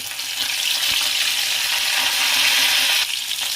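Garlic and curry leaves frying in hot oil for a tempering, for a gongura chutney, giving a steady, close, loud sizzle with light crackle and stirring throughout, no voices.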